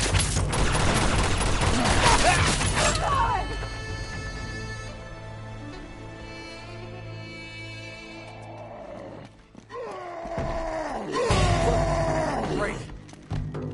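Rapid gunfire from a PS4 shooter game rattles loudly for the first few seconds, then gives way to game music, roaring creature sounds and voices.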